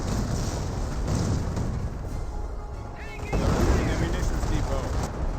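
Booming artillery fire from the real-time strategy game Company of Heroes, landing on an infantry squad. Dense, rumbling bursts and crackle persist throughout, growing heavier in the second half, with a voice talking over the battle.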